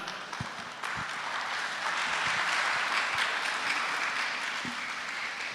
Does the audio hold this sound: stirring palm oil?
no